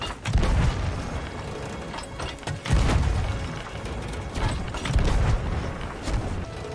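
Cannon shots striking a ship in Sea of Thieves, a few heavy booms landing at intervals over a low rumbling, creaking background, with no one talking.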